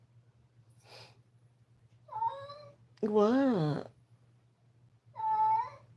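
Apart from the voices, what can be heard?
cat meowing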